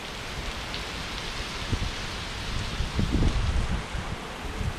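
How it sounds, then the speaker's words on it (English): Heavy rain from Hurricane Laura in Louisiana pours down steadily, a dense close hiss of drops on surfaces that swells slightly in the middle, with no voices. "we're getting a lot of rain right now"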